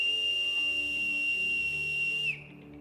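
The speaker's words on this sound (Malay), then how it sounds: "tapi untuk kita punya bosun pipe, kita ada high note dengan low note" A single sustained, piercing low note on a bosun's pipe holds steady for over two seconds, then cuts off abruptly, leaving faint room noise.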